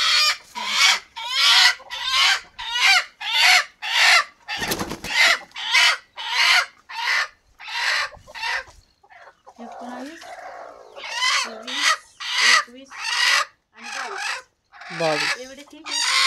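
A broody village hen clucks repeatedly at close range, a rapid series of loud, throaty bursts in steady rhythm with a brief softer pause midway, heard alone with no voices.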